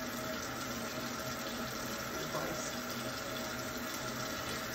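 Warm tap water runs steadily into a sink as soap is washed off hands, a constant close gushing hiss that holds unchanged throughout with no voices.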